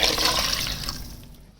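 Two liters of water pour into a pot of chicken yakhni in a home kitchen, a loud rushing splash that gradually thins and fades over under two seconds.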